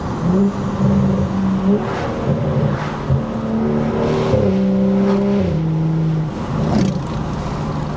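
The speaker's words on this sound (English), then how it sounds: "this is going to be our BimmerWorld MagnaFlow race system for our F3X race car" A BMW F3X race car with a BimmerWorld MagnaFlow race exhaust and ZF 8-speed transmission revs repeatedly up and down, loud and close, with a deep, layered exhaust note rising and falling and no talking.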